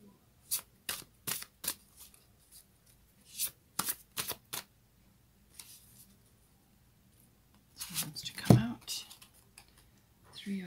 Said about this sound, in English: I'm going to get one from the fairy tarot.